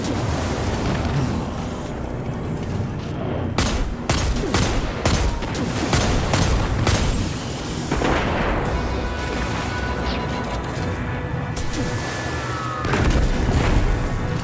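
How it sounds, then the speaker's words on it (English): Grenade explosions in Destiny 2, a dense barrage of loud booming blasts and rapid gunfire crowding together, with heavy rumbling between hits. "Man, them grenades are hitting hard, dude."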